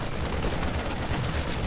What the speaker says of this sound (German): meine Ranger können von hinten schon draufballern